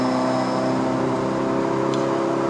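Proton Iriz 1.6L hatchback engine holding around 4000 rpm while climbing a mountain road in Malaysia, a steady, droning in-cabin hum with even tonal harmonics and no talking.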